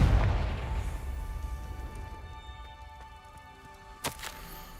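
Confringo blasting spell explosion in Hogwarts Legacy: a loud burst up front that decays into a long rumbling tail, with a sharp crack near the end, no talk.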